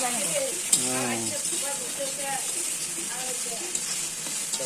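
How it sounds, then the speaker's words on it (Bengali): Crushed garlic, ginger and chili dry-frying without oil in a village-style kitchen, a steady close hiss and sizzle with occasional stirring scrapes throughout, and a brief tonal sound near the start. "অর্ধেক কিছু তেল ছাড়াই ভাজতে লাগে।"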